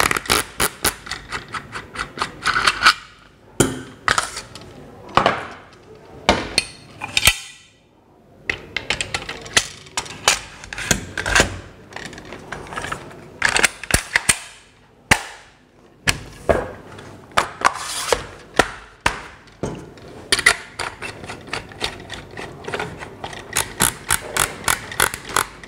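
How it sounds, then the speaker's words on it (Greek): A Beretta Bellmonte 1 synthetic shotgun is put together by hand, with a string of sharp metallic clicks, snaps and clacks arriving in uneven bursts and separated by short pauses, close and loud, with no voices. "Πάμε να δέσουμε το όπλο μας."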